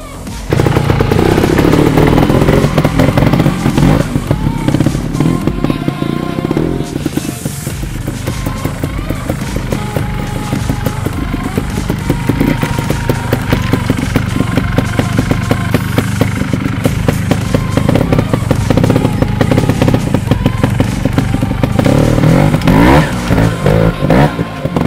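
A trials motorcycle engine revs and idles continuously at close range as the rider tackles the expert sportsman line during an observed competition section, with throttle blips, occasional thuds over obstacles and no clear talk.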